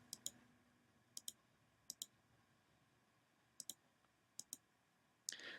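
Mouse clicks come in quick pairs, about five double-clicks spaced a second or so apart, crisp and close against a quiet room hiss while anchor points are placed in Photoshop.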